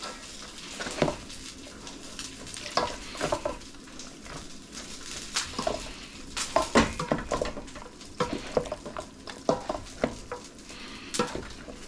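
A spoon stirs an egg mixture into sausage and sage stuffing in a pan, with the heat just shut off, making soft repeated scraping and clinking strokes in an uneven rhythm, close and fairly quiet.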